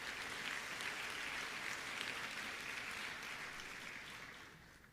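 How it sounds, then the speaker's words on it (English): An audience at a formal dinner event in San Jose, California claps in sustained applause, moderately distant and even, slowly tapering toward the end. "Please give them a round of applause."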